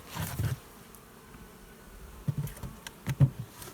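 Honeybees crowd the frames of a hive after winter, their buzz rising in short low bursts, one near the start and several more toward the end, over quiet stretches.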